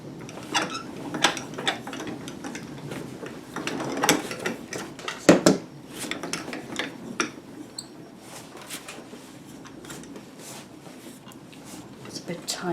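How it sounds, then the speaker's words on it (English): A Grand Calibur die-cutting machine cranks a homemade cardboard embossing plate through its rollers, producing irregular clicks, creaks and mechanical knocks close by, with some faint talk over parts of it. "And my embossing plate, and I'll just run those through the grand caliper"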